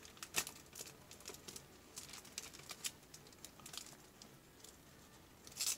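Plastic packaging from an Atelier Ryza 2 Japanese collector's edition crinkles and crackles in quiet, scattered bursts of small clicks and rustles, faint and close, with a sharper flurry at the end.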